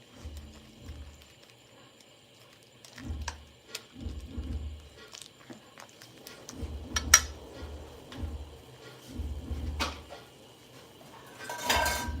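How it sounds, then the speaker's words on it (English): A cooking pan of shrimp for Khmer-style spring rolls being taken off the stove, with close metallic clanks and scrapes of pots and utensils in irregular bursts, ending in a louder rattle. "I am going to go ahead and remove it from the stove"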